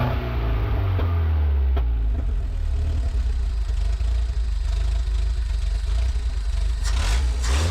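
An abandoned truck from Chernobyl idles loudly and steadily right after its first start, a rough, clattering engine rumble close by with a brief rise in revs near the end.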